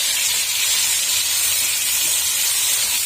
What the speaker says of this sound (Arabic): بصوا يا حبايبي انا مستمره في تحمير البصل لسه